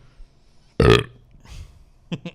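A loud, close burp from a person out on a college night of drinking, one long belch followed by fainter rumbles and a couple of short sharp sounds.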